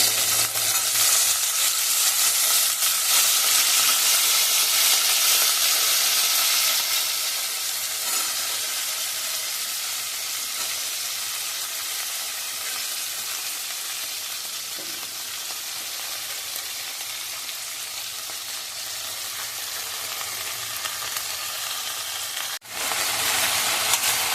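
Okra sizzles and fries steadily in a hot pan, a continuous bright crackling hiss that eases slightly partway through, with an occasional stir.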